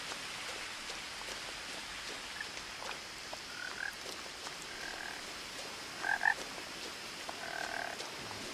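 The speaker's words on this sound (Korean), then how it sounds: "개구리 소리가 나는데" Frogs croak in short, scattered calls inside a video game, some doubled, over a constant soft hiss like light rain; moderately quiet and with no talking.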